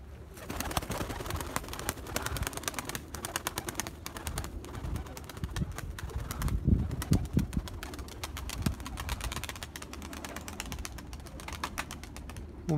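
Tumbler pigeons coo steadily in a loft, with low, throaty rolling calls that repeat and overlap over a constant background hum and scattered faint clicks and scuffles.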